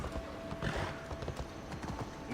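Horse hooves clip-clopping in Assassin's Creed Odyssey, a quick irregular run of hoofbeats on the ground with a brief whinny, fairly quiet game audio with no talk.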